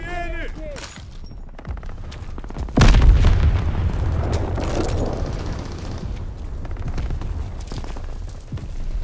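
A grenade blows up in the World War II shooter Call of Duty WWII, one loud close boom with a long rumbling tail, over ongoing gunfire and battle noise.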